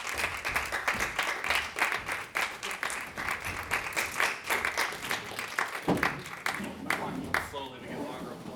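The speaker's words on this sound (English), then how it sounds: "So please put your hands together for Pigsty." Audience applause for the Pigsty performers at a live show, a steady rattle of many hands clapping at moderate distance for several seconds, fading slightly toward the end as a voice begins talking over it.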